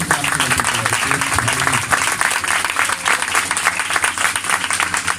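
A church congregation gives a round of applause during a sermon, a broad, steady wash of clapping filling the hall for several seconds with faint voices mixed in underneath.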